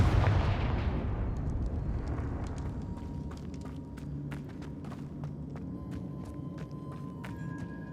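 Confringo fire spell exploding in the Hogwarts Legacy video game, a heavy boom that rolls off into a long rumbling decay, followed by scattered sharp crackles and small impacts.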